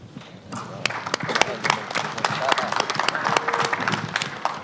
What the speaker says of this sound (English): That was one of those really reluctant claps, wasn't it?